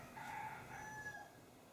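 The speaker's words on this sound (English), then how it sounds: "you might hear some chickens" Feral chickens outside an open door let out faint, distant rooster crows, one drawn-out cock-a-doodle-doo followed by a softer overlapping call over quiet room tone.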